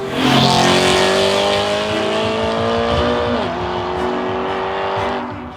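A BMW E92 M3 engine revs hard and steadily, its tone climbing then dropping as the driver shifts, loud and close with no voices.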